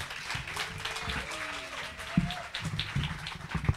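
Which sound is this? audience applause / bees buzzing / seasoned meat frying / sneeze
audience applause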